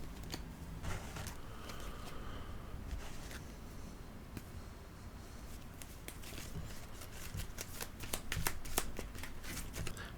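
Playing cards for The Fellowship of the Ring trick-taking game being shuffled by hand at a tabletop, close crisp riffles and soft slides with sharp flicks, fairly quiet with no talking.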